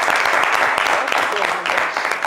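Dense, steady audience applause fills the room on a French New Year's Day television show, a continuous wash of many clapping hands at fairly even loudness throughout.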